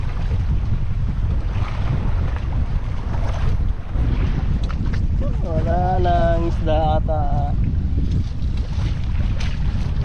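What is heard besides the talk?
strong wind on a boat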